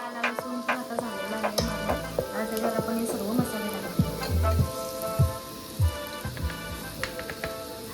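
Onions and spices fry in hot oil for a spicy mutton masala, crackling and sizzling steadily while a spoon scrapes and knocks against the pan in repeated strokes, with faint background voices.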